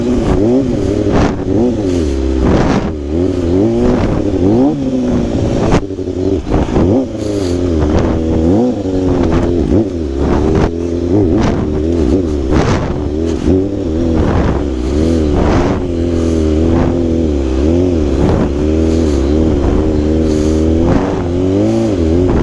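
A stunt motorcycle engine revs hard and close, for over twenty seconds of rising and falling throttle sweeps with clattering mechanical bursts, loud throughout, with no talk over it.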